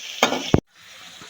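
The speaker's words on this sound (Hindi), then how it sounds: "चिकन को ना 1 मिनट हो गया फ्राई होते हुए" Small chicken pieces for a chicken cheese shawarma fry in a pan, a brief burst of sizzling and stirring followed by a faint, steady hiss.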